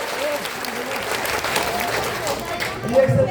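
Audience applause for Rangpur at a DXN program in Rangpur, Bangladesh: steady, dense clapping from a crowd, fairly loud and close, continuing for several seconds, with a voice faintly mixed in underneath.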